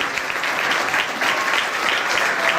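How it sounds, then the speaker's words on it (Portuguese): A church congregation claps together at an evening service, dense sustained applause filling the room for the whole stretch, loud and even with no voices over it. "todos que recebem a presença de Deus aplaudam o nome de Jesus nessa noite"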